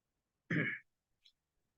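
One short, close throat-clearing cough from a man during an online webinar, followed by a faint small click.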